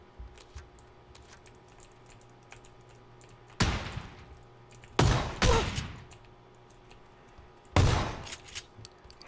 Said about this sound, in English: The double barrel gets you every time